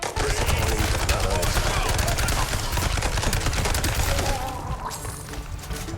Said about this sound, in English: It's insane how good this SMG is.